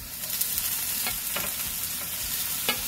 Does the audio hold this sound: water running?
no